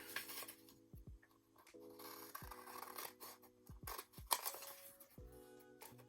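Scissors cut out paper pieces for a DIY Halloween monster flippy ephemera craft, making soft, close snips and paper rustling at an uneven pace with short pauses, all fairly quiet and without speech.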